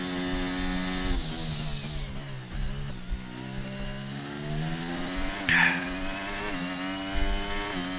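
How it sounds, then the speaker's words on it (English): A race car engine in a racing video game drones with a raspy, buzzing tone, its pitch rising and dipping while it stutters and cuts repeatedly under traction control, heard alone at moderate loudness. "Sounds like he's using traction control."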